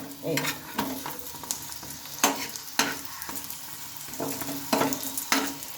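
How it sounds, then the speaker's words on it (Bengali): A stuffed semolina snack fries in a pan with a low crackling sizzle. Sharp knocks and scrapes of a utensil turning the pieces break in at irregular moments, close and fairly quiet. "এক সাইডটা ভাজা হয়ে গেলে অপর সাইডটাও ঠিক একইভাবে ভেজে নিতে হবে"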